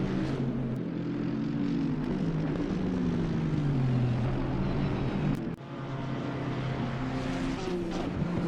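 GT3 race cars in a racing video game drone past at Mount Panorama, an Aston Martin with a 4-litre AMG twin-turbo V8 and a Bentley V8, engines whining and shifting steadily, one brief dip midway.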